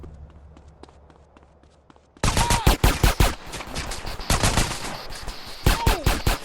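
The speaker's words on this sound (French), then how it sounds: "Je suis en train de me faire tirer dessus à mort là." Dense gunfire from GTA San Andreas breaks out suddenly after a quieter stretch: loud, close bursts of rapid automatic shots mixed with single cracks, continuing without pause to the end.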